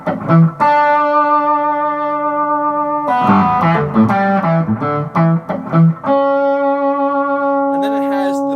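Electric guitar played through a MOSFET full drive pedal set for rock distortion after a tube screamer, sustained overdriven chords and single notes ringing with rich harmonics, moderately loud and alone.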